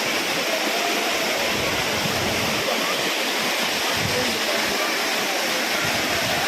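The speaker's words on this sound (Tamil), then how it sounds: "ரொம்ப சூப்பராக தண்ணி விழுந்துகிட்ருக்கு" Water pouring down the Courtallam waterfall, a dense, continuous roaring wash that stays loud and unbroken throughout, with no pause or letup.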